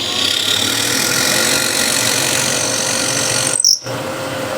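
A power drill with a smaller bit bores into timber for a hexagon plate, a steady whirring drone that holds for several seconds, then a brief sharp squeal and cutoff before resuming.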